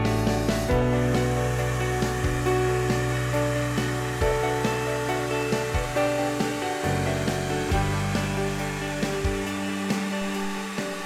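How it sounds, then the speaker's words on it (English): A heat gun blows hot air close by while vinyl wrap is applied into a deep channel, making a loud, continuous whirring drone with faint rubbing sounds over it. "So heat here, with the heat gun pointing away from the channel, and make the application here."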